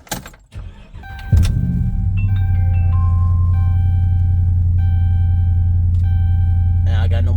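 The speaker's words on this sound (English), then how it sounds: "I can start the truck." A 2012 Ram 1500 pickup with a 5.7L Hemi V8 and a high-flow catalytic converter cranks on a cold morning, catches with a loud rev, then settles into a deep, steady idle rumble, with a few faint clicks and chimes over it.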